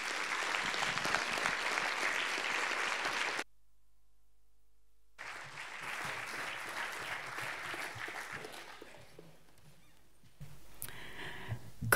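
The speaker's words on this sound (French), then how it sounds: "Sous vos applaudissements, s'il vous plaît." Audience at an evening song showcase applauding a singer: a burst of full crowd clapping cuts off into silence, then a second round of applause swells and gradually thins out before a short, faint tail of other sound.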